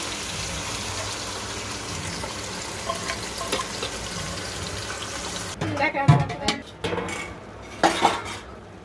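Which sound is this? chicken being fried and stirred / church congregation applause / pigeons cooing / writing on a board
chicken being fried and stirred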